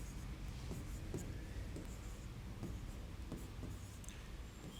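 Writing on paper or a board during an astrology lesson, soft intermittent scratchy strokes over a steady low background hum, no talk.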